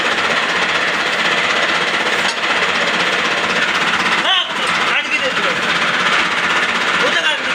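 A tractor engine drives a fodder chopper, a loud, steady mechanical drone with rapid knocking and rattling throughout, briefly dipping twice, with voices talking over it.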